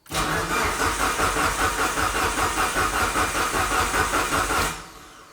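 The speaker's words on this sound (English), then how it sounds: "But we're going to turn it over some more and see what happens here" A fully built Mitsubishi Evo 9 engine cranks over on the starter without catching, a loud, continuous rhythmic churning that runs steadily for several seconds and then cuts off, heard close with no voices.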